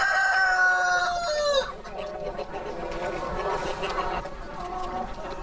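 A rooster crows loudly in a long falling call, then hens cluck and murmur in a busy flock at a poultry farm, a dense layered mix of fowl voices continuing throughout.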